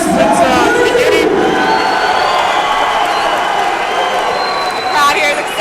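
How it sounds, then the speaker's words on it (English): A cage-fighting event crowd roars and cheers continuously, loud and dense, with whoops and shouts rising near the end, and a voice talking over it. "The crowd here is excited."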